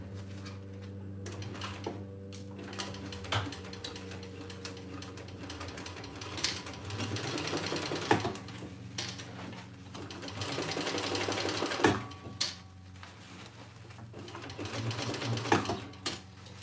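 A sewing machine stitches a Mysa crossbody bag, running in close rapid bursts with short pauses and fabric handling between them.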